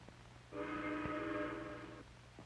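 A steam train whistle blows once in a steady, sustained tone lasting about a second and a half, heard from some distance as the train approaches.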